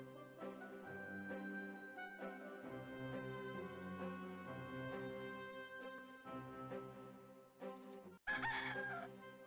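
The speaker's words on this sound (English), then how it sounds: "A rooster." A rooster crows in the video game Discworld 2, a drawn-out tonal cock-a-doodle-doo over a steady musical background, clear and alone, followed by a brief sharper burst near the end.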